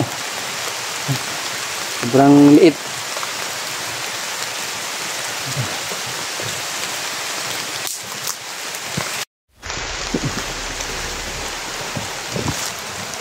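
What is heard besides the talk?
heavy rain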